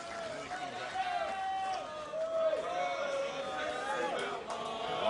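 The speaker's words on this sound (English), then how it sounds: "Raucous crowd here in Bethlehem." A raucous crowd at a PBA bowling tour finals in Bethlehem, a constant murmur of cheering and chatter with a commentator talking over it at moderate volume.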